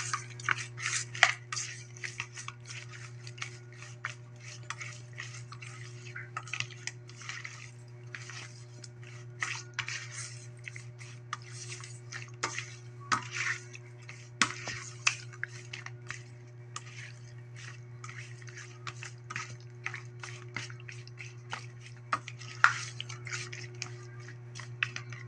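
A chicken and egg mixture being stirred in a pot, giving soft, wet squishing and small clinks that repeat irregularly over a steady low hum.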